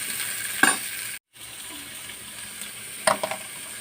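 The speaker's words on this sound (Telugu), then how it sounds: "కొంచెం ఇది హాఫ్ వరకు ఫ్రై అయితే సరిపోద్ది, పూర్తిగా మగ్గాల్సిన అవసరం లేదు." Urad dal and idli rava fritters deep frying in hot oil give a steady, fairly close sizzle, with two brief louder crackling bursts and a short moment of silence partway through.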